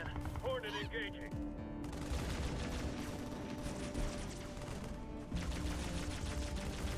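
Heavy battlefield gunfire from the strategy game Halo Wars: Definitive Edition, dense rattling bursts layered with booms and unit radio chatter, a sustained loud barrage with a brief lull near the two-second mark.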